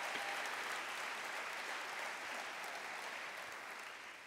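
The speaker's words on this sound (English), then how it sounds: "You know you're bad when you get that kind of applause" Steady applause from an audience at a Governor's Service Awards ceremony, a dense wash of clapping that holds evenly for a few seconds and tapers slightly toward the end.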